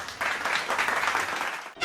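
A short burst of crowd applause plays as a sound effect in a gaming clip, steady clapping for under two seconds before cutting off.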